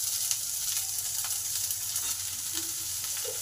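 Onions sizzle steadily in a hot pan for a pat shak (jute leaf) fry, a continuous close crackle with a few soft stirring sounds and no talk.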